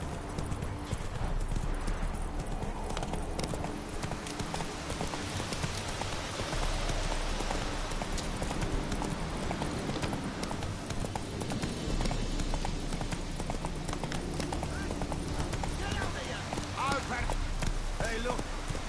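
Roach, the horse from The Witcher 3, trots with a steady clip-clop of hooves, loud and continuous throughout, mixed with rain-like ambience and game sounds, while voices talk over it.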